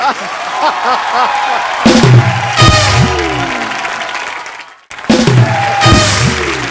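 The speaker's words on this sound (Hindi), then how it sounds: "जोरदार तालियां" Studio audience applause and cheering on the Kapil Sharma comedy show, breaking out in two loud bursts over music playing in the background.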